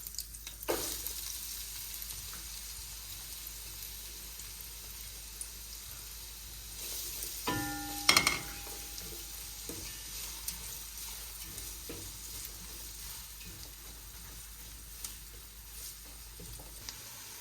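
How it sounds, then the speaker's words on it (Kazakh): Chopped onion and garlic frying in oil and butter for a pumpkin dish, a soft continuous sizzle with occasional spoon clinks and a louder burst of stirring and scraping partway through, no voices. "Осыған енді жуамызбен сарымсағымызды қуырып аламыз."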